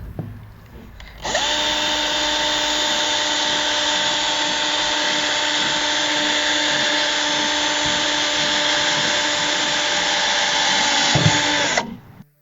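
A power drill bores a hole into a plastic wheelie bin being made into a compost bin, one loud sustained whine that starts abruptly, holds steady for about ten seconds, then cuts off, close and alone.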